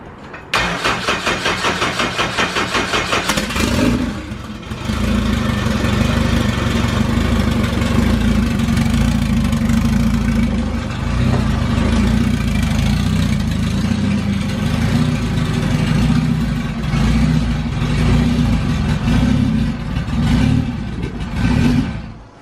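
An AWD coupe with a new Speedfactory fuel cell, not run in a long time, cranks for about four seconds, catches, and settles into a loud, steady, rumbling idle that holds close by with no talk over it.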